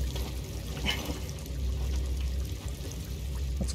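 Water pouring in the video game Star Wars Jedi: Fallen Order, a steady rushing splash that runs unbroken and fairly loud over a low rumbling background.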